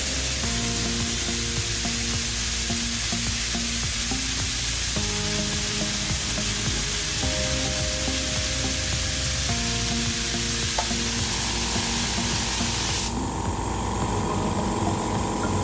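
An ARTIX OA 1024 oilless electric air compressor runs steadily with a loud, continuous motor drone and mechanical hum, its pitch and texture shifting near the end as it cycles, with no talking.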